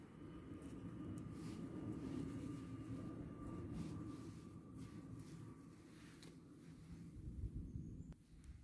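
A low, steady rumble of an airplane passing overhead drones on throughout, distant and broad, with no voices.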